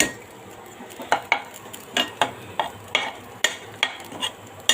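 Chili, onion, garlic and cumin paste being sautéed in a pan, with a steady sizzle under regular scraping and stirring strokes of a utensil against the pan, close by, with no talking.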